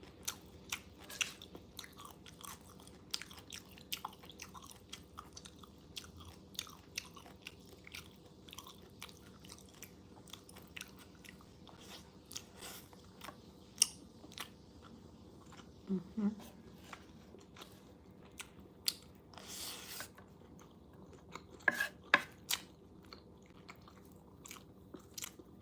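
Crisp cabbage being bitten and chewed close to the mic, a steady run of small sharp crunches and mouth sounds scattered across the clip, quiet and intimate, with a few soft voice murmurs between bites.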